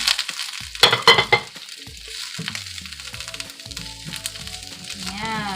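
Onion dropped into hot oil with garlic in a pan, a loud crackling sizzle at first that settles into a steady fry, with scraping and clinks of stirring and a voice speaking over it.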